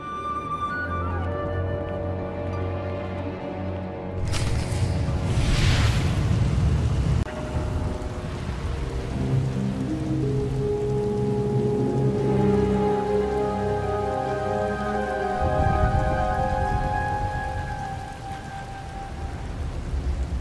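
Steady rain pours in a thunderstorm in the Star Wars: The Old Republic video game, with a loud thunder rumble around five seconds in and game music swelling over the continuous downpour.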